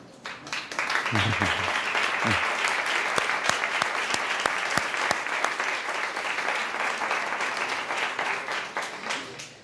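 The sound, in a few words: audience applause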